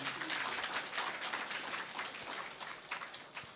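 Audience clapping at a devotional gathering, a lively burst of many hands that gradually thins and becomes more scattered, heard at moderate distance.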